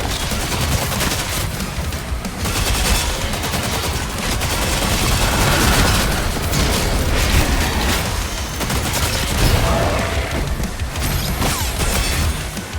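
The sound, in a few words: gun firing in the video game DOOM: The Dark Ages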